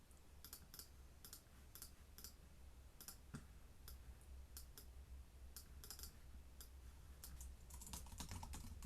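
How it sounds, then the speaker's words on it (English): Typing on a computer keyboard at a desk while planning social media content, a steady stream of light, quick key clicks with small bursts and pauses, close and clear over a faint low background hum. "so let's type it out here"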